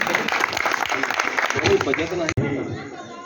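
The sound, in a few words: audience applause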